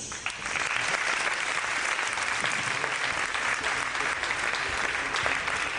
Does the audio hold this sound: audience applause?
yes